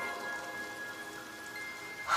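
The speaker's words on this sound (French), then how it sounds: "Oh, cette pluie est si douce." Gentle rain from the Demon Slayer anime falls softly and evenly, a light steady patter with a faint sustained tone, swelling briefly at the very end.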